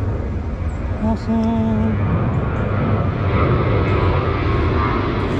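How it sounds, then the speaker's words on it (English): A fixed-wing airplane drones overhead beside a creek during a fall fishing trip, a steady low rumble under outdoor ambience, with a brief spoken word partway through. "Sorry about the airplane there."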